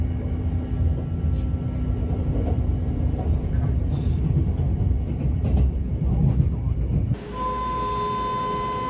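A local train runs near Yokkaichi in Mie Prefecture, Japan, giving a steady loud rumble with low mechanical drone, then a sudden shift to a quieter hum with sustained electric whine tones near the end.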